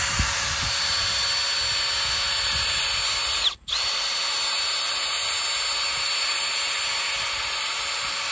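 Power drill boring a pilot hole into a composite deck board for picture-framed deck stairs, a loud continuous high-pitched whine running nearly the whole time with one brief stop midway, close up and alone.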